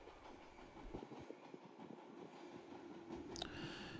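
A Fukuen Line local train rolls in with a low steady rumble and soft rhythmic rail clatter, heard from a distance and fairly quiet, with no one talking.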